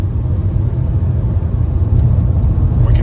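Mercedes W124 engine and road rumble heard from inside the car as it accelerates on cruise control, a steady low drone with tire noise throughout.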